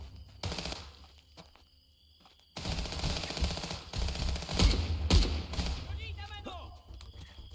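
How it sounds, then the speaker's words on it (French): Rapid bursts of automatic gunfire and single shots in the video game Contraband Police, loud and close, broken by short pauses and mixed with game effects. "J'essaie de viser la tête pour pas gaspiller trop de munitions"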